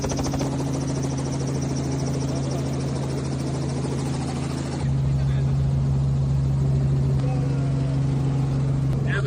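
Loud, steady helicopter engine and rotor drone from inside the cabin during a flight at the 2025 Maha Kumbh in Prayagraj, a constant heavy hum with a shift in tone partway through.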